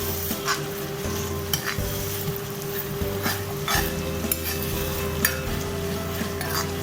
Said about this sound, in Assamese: আৰু এতিয়া ভালকৈ ভাজি থাকিব।